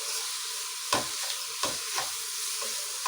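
Frying with a little salt in a pan gives a continuous bright sizzle, broken by a few spoon stirs or scrapes, close and loud with no talking.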